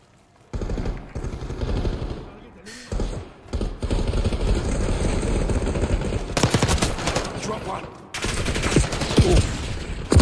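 Sustained automatic gunfire in Call of Duty Black Ops 6 on a small Face Off map, loud and close, rattling in long bursts with short gaps between them.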